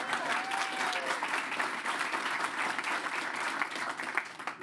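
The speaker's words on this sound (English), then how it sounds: "let's do a round of applause so she's watching" An audience at a school board of trustees meeting applauds, a steady wash of many hands clapping at moderate volume that continues without a break.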